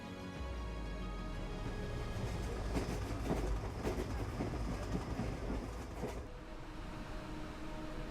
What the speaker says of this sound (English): It is the sound of a train passing along the southern shore, running on the Trans-Siberian Railway